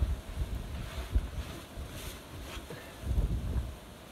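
Linen canvas flaps in the wind outdoors in outback Australia near Tibooburra, with gusty rumbling wind buffeting the microphone and soft irregular fluttering throughout.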